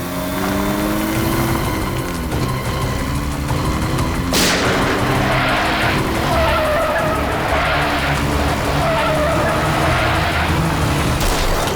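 A car skids hard during a chase, tyres screeching in long wavering squeals with a sharp crash-like impact midway, loud and close over engine noise.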